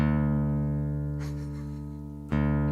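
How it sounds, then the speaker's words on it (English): A single guitar string rings steadily, briefly dips, then is plucked again and keeps sounding, as when a string is being tuned. "I'm going to tune my guitar"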